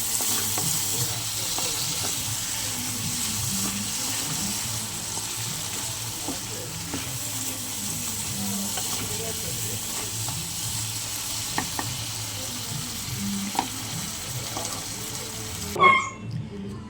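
Boiled mung dal stirred into frying spices in a pan gives a long, even sizzle with soft wet scraping and spoon stirs, a sharper clatter near the end, no one speaking.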